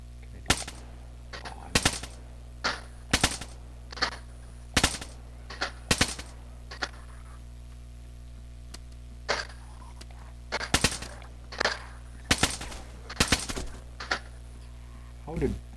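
DayZ gunfire is heard as a long run of sharp, snapping reports, some single and some in quick pairs, irregularly spaced over a steady low hum.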